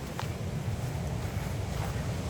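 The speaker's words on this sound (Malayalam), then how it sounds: "നല്ല കാറ്റുണ്ട്" Strong wind gusts across the microphone at Ezhara Beach, a steady, loud low roar that fills the whole moment with no talk over it.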